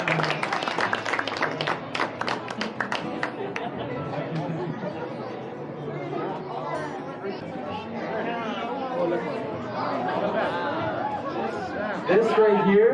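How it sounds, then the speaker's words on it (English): Audience applause at a sloth and wildlife rescue show in a shopping mall, a burst of clapping that fades within a few seconds into crowd chatter and a presenter talking. "Everybody give her a round of applause."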